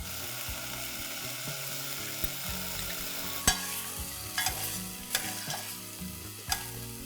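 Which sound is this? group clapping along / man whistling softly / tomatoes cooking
tomatoes cooking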